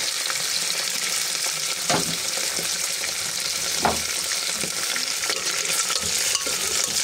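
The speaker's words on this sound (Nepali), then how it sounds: "यसमा हामीले हाल्ने हरियो केराउ यसलाई हालेर मजाले पकाउने" Green peas fry in a pan for Nepali pulao, a steady broad sizzle running throughout with a few scrape-and-stir strokes breaking through at intervals.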